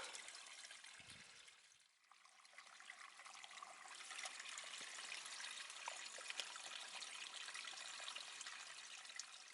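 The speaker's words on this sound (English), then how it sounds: "I'm going to fill my bottle up with spring water." Spring water trickles and splashes steadily into a bottle on a hill near Hay-on-Wye, a continuous bright gurgling flow that grows slightly fuller over time.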